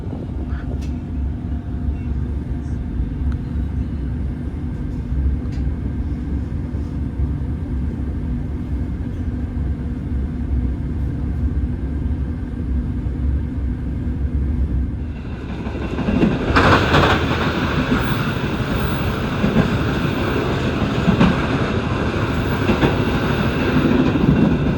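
An old executive-class Brantas passenger train pulls away from Kertosono station with a continuous rumbling roll and clatter, swelling noticeably louder partway through as it picks up movement.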